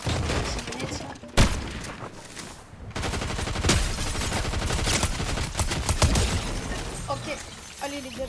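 Video game gunfire from a battle-royale match, a dense, loud stream of rapid automatic shots with a sharp boom and brief pause, continuing in bursts under faint voices.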